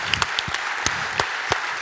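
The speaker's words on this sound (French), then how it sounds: "que l'on applaudisse." A handful of distinct hand claps ring out across a short stretch as an audience applauds employees at the 2023 Côte-d'Or business awards ceremony. The claps are spaced and fairly close, with no talk over them.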